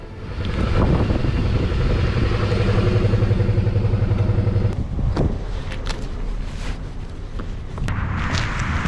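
A motorcycle rides through the streets of Olomouc, Czech Republic, its engine droning loud and close for several seconds, then easing to a lighter, rougher idle with a few clattering knocks.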